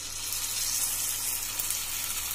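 Idli batter sizzles in an oiled paniyaram pan for kuzhi paniyaram, a steady close hiss with no voices.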